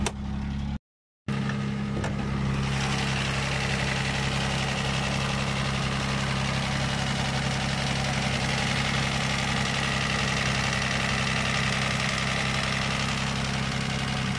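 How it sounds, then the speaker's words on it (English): A 2007 Toyota FJ Cruiser idles steadily with the hood open, a constant low engine hum with a faint rattle riding on top after a brief cut near the start. "There is some kind of rattle noise."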